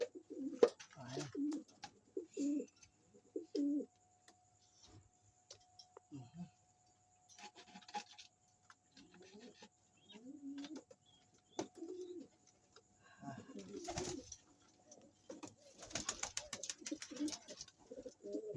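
Soft, repeated pigeon coos in short bursts with pauses between, alongside faint rustling and occasional light scraping, fairly close and quiet.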